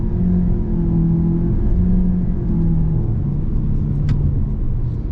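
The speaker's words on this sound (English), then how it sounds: "So not bad acceleration." A 2021 Mitsubishi Eclipse Cross with a CVT gearbox accelerates, its engine rising in a smooth, droning hum over steady road rumble, heard from inside the cabin without talk.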